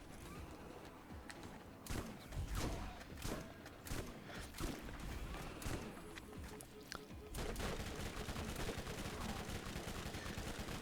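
Rapid bursts of gunfire from the Borderlands shooter game, sharp repeated shots and automatic fire with thuds, close and loud throughout, some separate cracks and clustered volleys over a steady game background.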